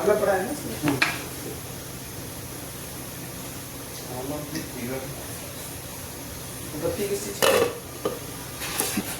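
Dal stirred in a pot over a high gas flame, with scattered metallic scrapes and clinks of the spoon against the pot over a low background hiss, while a person talks.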